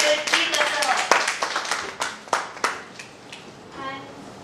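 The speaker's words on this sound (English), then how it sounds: "A big round of applause to Dr. D. Datta." A small audience claps at a talk, a scattered burst of hand claps that thins out and fades after a few seconds, with a voice speaking over it.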